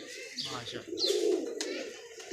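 A pet pigeon coos softly in short rolling phrases, close by, with someone speaking alongside it.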